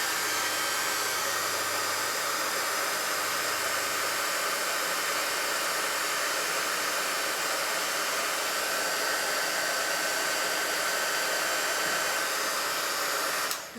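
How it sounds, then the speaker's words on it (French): A heat gun for melting hot embossing powder blows a steady, loud broadband hiss of air that runs without a break for the whole stretch, with no talking over it. "Donc ici c'est le pistolet chauffant qu'on utilise avec les poudres embossées à chaud."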